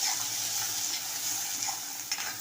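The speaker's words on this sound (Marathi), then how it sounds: "कांदा तर थोडाच परतवून घ्यायचा आहे अगदी लालसर करायचा नाही" Onion with garlic sautéing in oil, a steady, bright, hissing sizzle heard close up, with a faint stir or clink near the end and no voices.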